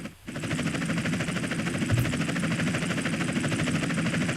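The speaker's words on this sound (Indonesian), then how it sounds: "We got a chopper on our tail." A helicopter chases the player in the video game GTA San Andreas, its steady rotor and engine drone running loud and unbroken throughout, with no talk.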